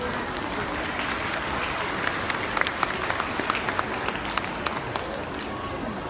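An audience at a cat show held at an agricultural fair applauds, a dense, steady wash of clapping from many hands with a few sharper individual claps standing out.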